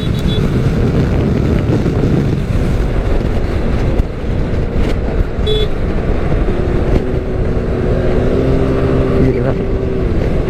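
Motorcycle engines in sport mode roar on a touring ride, a steady loud drone with wind buffeting the microphone and rising engine tones near the end.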